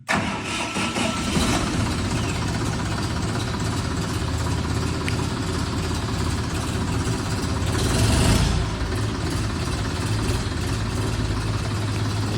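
A Fighter T-254 mini tractor engine starts and settles into a steady, loud running rumble close by, swelling briefly about two-thirds of the way through before returning to an even idle.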